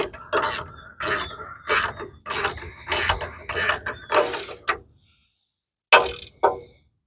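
A ratchet wrench tightens a bracket bolt on a 1957 Chevy, giving a series of close, loud clicking bursts in quick succession, a pause, then two more sharp strokes.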